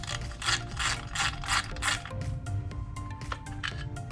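A 10mm socket wrench works a skid plate bolt loose on a Yamaha TW200 motorcycle, giving a close, steady series of rapid ratcheting clicks and rasps with no one speaking.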